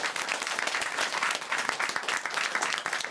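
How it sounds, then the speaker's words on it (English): Audience at a national high school economics competition applauding the winning team, a lively crowd clapping with distinct individual claps standing out from the dense applause. "Let's have another round of applause for our winners"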